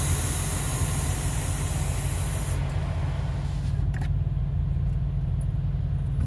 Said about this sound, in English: It's a little noisy outside with these trucks next to me.